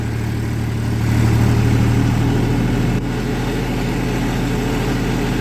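A tractor engine runs steadily nearby, its low chugging hum rising briefly in pitch before settling back into an even idle.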